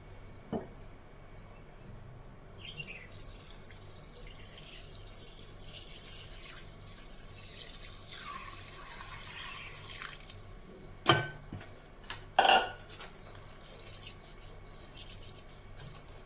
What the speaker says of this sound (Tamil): இப்போ இதை தண்ணி ஊற்றி ஊற வச்சுக்கலாம்.